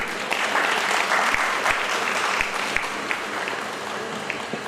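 Loud, dense applause from an audience at a Mahashivpuran religious discourse gathering, sustained steadily throughout with scattered sharper claps standing out.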